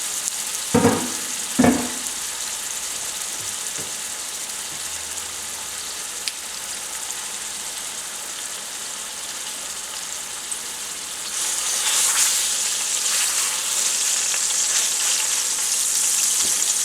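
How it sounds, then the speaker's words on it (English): An eye of round beef roast sears in a pot, a quiet even sizzle after a couple of knocks, swelling into a louder, brighter hiss near the end. "So now we're gonna sear our eye of round."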